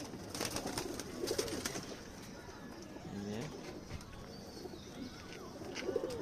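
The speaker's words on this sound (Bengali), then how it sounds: "এই হচ্ছে মাদি কবুতরটি" A female pigeon, a young bird hatched in 2025, gives soft, low, repeated coos amid close indoor ambience, with people talking over it.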